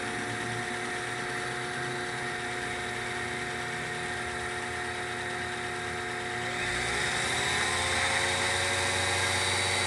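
A Grizzly G0781 milling machine runs steadily after its belt drive conversion, giving a continuous even mechanical whine with a rich tonal hum that rises and brightens slightly partway through, close and alone with no talking.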